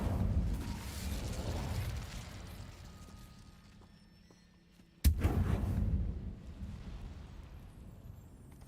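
Incendio fire spell cast in Hogwarts Legacy: a low rumbling whoosh fades, then a sudden sharp burst erupts midway and trails off into a roaring, crackling rush.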